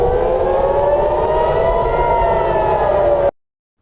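An air raid warning siren in Israel wails loud and close in a sustained, slightly wavering tone, then cuts off abruptly near the end.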